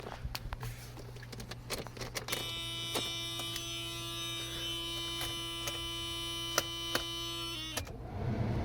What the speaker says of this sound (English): blower motor works again, so it was indeed the fuse